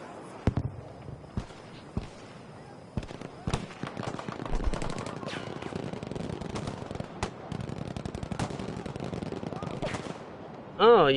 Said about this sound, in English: a return artillery strike called in by H&R